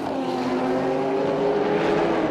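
Callaway Corvette GT race car engine, steady loud drone with a strong rising-and-falling engine tone held across the whole stretch, no voices.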